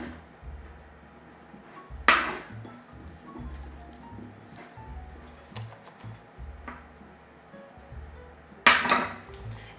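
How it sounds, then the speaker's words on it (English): Frozen blueberries are tossed with flour in a bowl for muffin batter, soft rustling and light patter punctuated by two sharp clinks of a utensil against the bowl, close and fairly quiet. "I just kind of add some to just kind of coat the blueberries"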